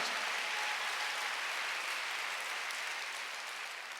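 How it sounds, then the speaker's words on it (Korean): Korean church congregation breaking into applause during a Sunday worship service, a dense, even roar of many hands clapping that holds steady before easing off slightly at the end. "빨리 박수."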